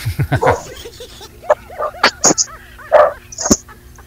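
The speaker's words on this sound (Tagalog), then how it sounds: "Ang tahol ng aso." A dog barks and yips in a quick series of sharp, close barks, with a few whimpering cries mixed in and brief pauses between bursts.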